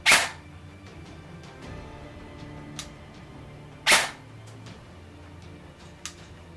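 Two sharp, isolated clicks several seconds apart from the trigger of a Krytac Trident LMG Enhanced airsoft gun on semi-auto, with fainter ticks in between against quiet background.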